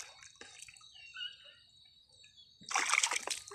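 Fish still swimming in water: a burst of splashing and sloshing in the last second, preceded by quiet drips and a faint high tone.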